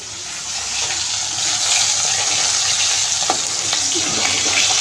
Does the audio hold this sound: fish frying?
yes